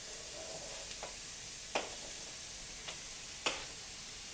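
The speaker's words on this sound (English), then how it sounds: "And we'll put the mushrooms in also, because they take a little bit of time to cook." Mushrooms cook in a pan with a soft, continuous sizzle, punctuated by a few sharp utensil taps spaced a second or so apart, faint and without talk.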